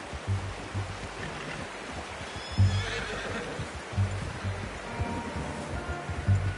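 A horse whinnies in the video game Red Dead Redemption 2 over a steady outdoor ambience, with occasional hoof thuds and low rumbling throughout.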